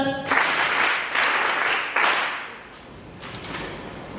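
Guests at a Limpopo provincial RCL awards gala dinner clap in a few successive waves of applause, each swelling and fading, with a quieter stretch of lighter clapping at the end.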